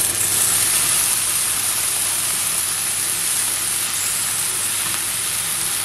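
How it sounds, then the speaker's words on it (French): Cream poured into a pan of cooked onions for a butternut and camembert gratin sets off a steady, loud sizzling hiss that holds evenly throughout, with no talking. "On va verser la crème."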